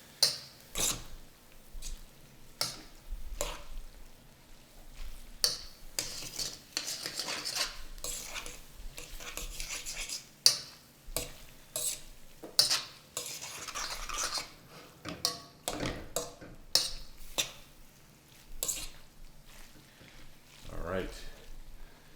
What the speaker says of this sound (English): the other thing I'm doing with this sauce is I'm going to deglaze the bottom of the pan